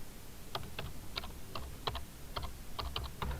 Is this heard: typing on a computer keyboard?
yes